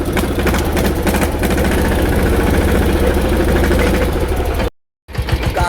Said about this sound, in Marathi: मग ट्रॅक्टर ऑटोमॅटिक पुढे जाते जरा कसं ना.